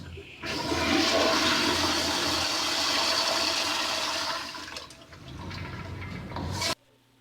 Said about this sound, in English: When you're laying down in the middle of the night and all of a sudden your toilet flushes.